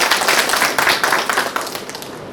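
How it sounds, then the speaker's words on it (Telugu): A crowd of former classmates at a 1979–1981 batch reunion in Huzurabad claps together, a dense, loud burst of applause that gradually thins and fades over a couple of seconds. "కాబట్టి ఒకసారి గట్టిగా చప్పట్లు కొట్టండి"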